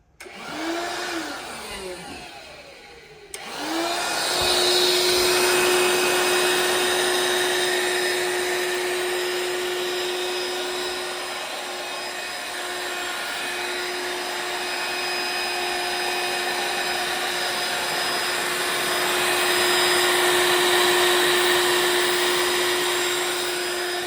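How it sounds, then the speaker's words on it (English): A small DeWalt cordless vacuum whirs steadily and loudly close by, cleaning debris off model railway scenery edges, its motor tone holding a constant pitch after a brief start-up surge. "let me take the little vacuum and just get the stuff right off the edges"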